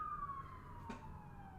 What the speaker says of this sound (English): So sorry, there's sirens in New York City.